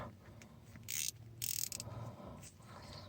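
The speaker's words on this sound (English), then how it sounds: "let's just try to loose them up. No, it's tightening." A wrench works at the U-joint bolts on an articulated dump truck's broken driveshaft, giving two bursts of metallic ratcheting clicks close by over low background rumble, with no talking.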